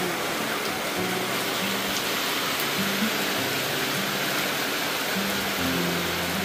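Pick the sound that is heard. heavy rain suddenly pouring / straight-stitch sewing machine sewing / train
heavy rain suddenly pouring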